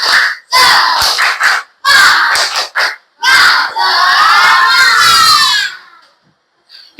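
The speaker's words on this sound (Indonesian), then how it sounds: "bisa tepuk semangat biar kita tetap semangat" Children in an Islamic religious education class shout a rhythmic spirit clap chant together, loud and close, in several bursts with short gaps, ending in a sustained group cheer that fades out.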